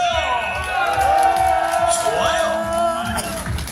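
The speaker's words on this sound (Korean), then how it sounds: "수준 높은 이 경기 두 선수에게 함성과 박수 한번 주시기 바랍니다" A crowd at a Korean bullfight, where bulls push against each other, roaring with cheers and whoops in a sustained swell, while an announcer's amplified voice talks over it.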